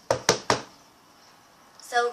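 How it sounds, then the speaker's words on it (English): A plastic cup slammed on a table three times for the cup song, quick hollow knocks close together up front, then a pause before someone starts speaking. "like slam on the table 3 times."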